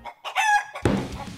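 Chickens cluck and a rooster crows in a farm video game, a short burst of loud, close fowl calls with the crow rising then cutting to clucking, no talking.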